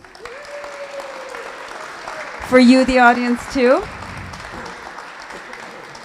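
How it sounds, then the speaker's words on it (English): Audience at a live storytelling show applauds in a steady wash of clapping under the host's voice, which speaks briefly over the noise before the applause fades. "But a round of applause to get us started."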